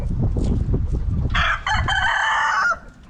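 Chickens cluck in low choppy bursts, then a rooster crows loud and close for about a second before the sound drops away.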